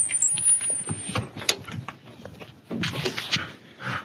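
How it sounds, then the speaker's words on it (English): Dogs at a house bark and whimper in short, irregular bursts, with squeals and panting-like sounds scattered across a few seconds of nearby outdoor noise. "so the dogs don't go crazy"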